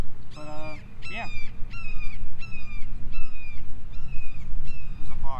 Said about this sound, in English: There's a hawk.